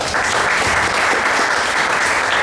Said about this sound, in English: And we clap for our God.